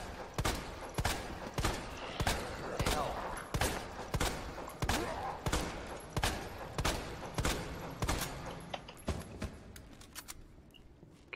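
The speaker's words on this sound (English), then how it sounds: "I'm gonna go ahead and shoot this guy" Gunfire in the video game Resident Evil 2 Remake: a steady series of sharp, evenly spaced shots, about a dozen in a row, loud and close, tapering off near the end.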